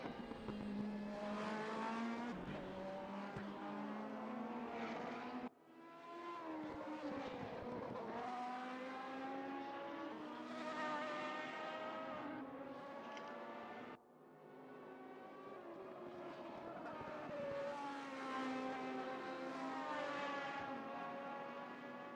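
LMP1 prototype race cars at Spa screaming past one after another, high engine notes rising and falling through gear changes with doppler sweeps, loud and continuous with brief dips between passes.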